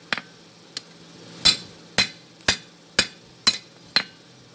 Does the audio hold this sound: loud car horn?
no